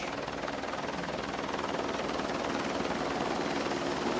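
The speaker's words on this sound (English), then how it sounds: "Helicopter on approach." A helicopter's steady rotor thrum and engine roar at a football game, continuous and gradually growing louder as it draws nearer.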